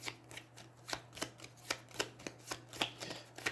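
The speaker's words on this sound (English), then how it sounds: "Shuffle it back into the turn art deck." A deck of cards from the Aeons End board game being riffle-shuffled, producing a steady series of crisp, close ruffling bursts about every quarter second over a faint low hum, with no talking.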